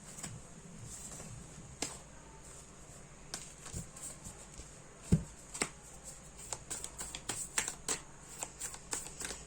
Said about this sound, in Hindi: बहुत सारे है, तो मैं और एक बस शफल करना चाहूंगी।